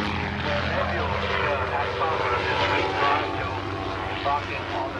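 Military aircraft flying overhead, a steady propeller-type engine drone holding throughout at moderate distance, mixed with background talk.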